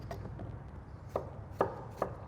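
A knife slicing shallots very thin on a cutting board for grilled brisket and bison sliders, heard as a few quiet, separate cutting taps spaced unevenly over a couple of seconds.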